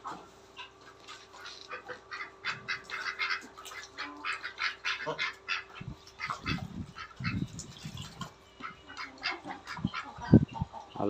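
Ducks in a garden quack and squawk in a busy, overlapping chorus, some calls near and loud and others farther off, with rustling and occasional low thumps between them.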